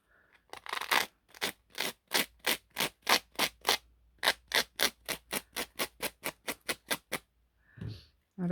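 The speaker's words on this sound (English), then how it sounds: "So sand it off." Hand sanding a handmade notebook: about twenty steady rhythmic rasping strokes, close and fairly loud, with short gaps between them and a brief rustle at the end.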